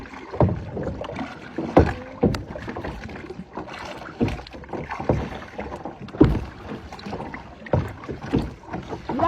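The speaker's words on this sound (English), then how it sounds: "Cause we kayaking, baby." Kayak paddles dip and pull through the water on a bioluminescent night tour, making close, rhythmic splashes and drips about every second, with light wind noise and no talk.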